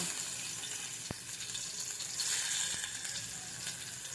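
Garlic frying in hot oil in a pan, a soft continuous hiss and crackle with a couple of faint clicks from the cooking, fairly quiet and close.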